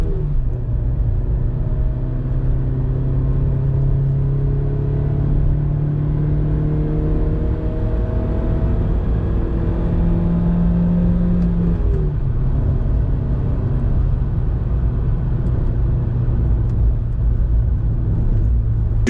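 A Hyundai Getz engine drones steadily from inside the cabin in second gear at 80 km/h, a low rumbling hum with a slight rise in pitch, no talking.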